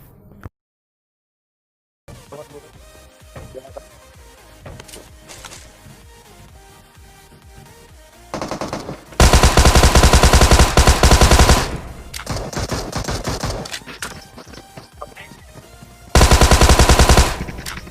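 Gunfire from M249 and Kar98 weapons in the mobile battle royale game PUBG Mobile: after a brief silence and quieter game ambience, two loud sustained bursts of automatic fire dominate, with scattered shots in between and no talk.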